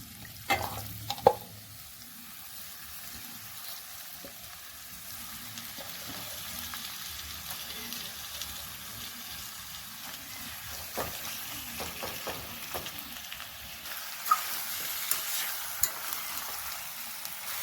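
Chicken with fenugreek leaves, salt, chilli powder, turmeric and oil frying and being stirred in a pan, a steady close sizzle with scattered scraping clicks of the spoon throughout.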